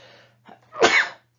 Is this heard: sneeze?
yes